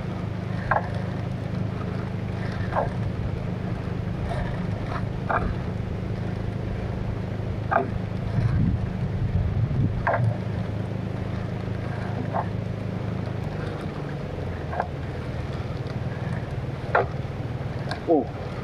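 A small outrigger fishing boat running on calm sea with a steady low engine drone throughout, intermittent faint knocks and splashes over it, and soft voices in the background.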